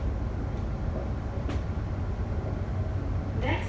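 Onboard Class 710 unit 710121 running toward Enfield Town, with a constant low rumble and rolling hum of the carriage, a few faint squeaks and a chime-like tone near the end.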